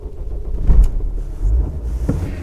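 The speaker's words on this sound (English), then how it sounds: "it's not a great sounding engine" Mercedes ML 270 diesel engine cranking and starting on a cold day, a low rumbling clatter with uneven surges, close and fairly loud.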